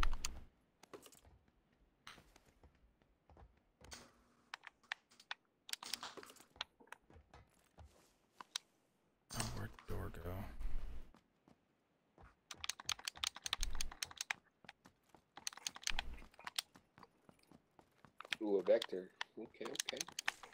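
Xbox One controller buttons clicking rapidly and loudly in irregular bursts during a PUBG match, with people talking over the clatter.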